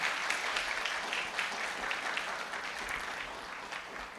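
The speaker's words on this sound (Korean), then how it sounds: "하나님께 영광의 박수 올려드리겠습니다." A Sunday worship congregation claps together in a sustained, even round of applause, moderately distant and soft, lasting several seconds without speech.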